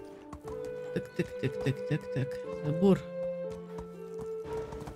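In the medieval survival game Medieval Dynasty, a galloping horse's hooves beat rapidly beneath someone talking, with a brief whinny-like sound midway and the steady hoof rhythm carrying through to the end.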